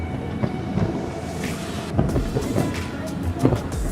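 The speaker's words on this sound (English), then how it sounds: "There's a train going over it." A train crossing a long, narrow bridge in the Florida Keys gives a low, steady rumble from a distance, mixed with wind noise and a few louder swells.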